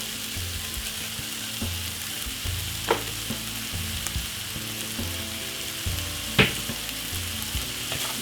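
Butter and mixed pepper stir-fry in a pan ahead of Brussels sprouts, with a constant close sizzle and a couple of sharp utensil knocks against the pan.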